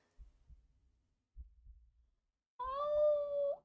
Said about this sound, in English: finally a single cat pushes its way to the front